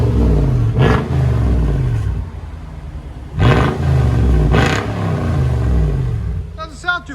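A 2003 Toyota 4Runner V8 with its muffler deleted, idling with a deep, loud rumble and blipped through several sharp revs, a couple of them close together, before settling back to idle.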